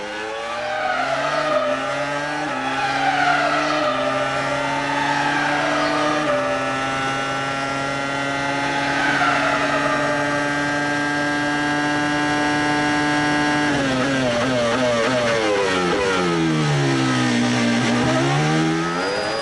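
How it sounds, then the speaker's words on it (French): A Renault Formula 1 car in the F1 2005 racing game screams at high revs through gear changes, its pitch climbing and dropping as it brakes and accelerates, loud and continuous with faint tire squeal. "magnifique démonstration de Fernando Alonso au volant de la Renault"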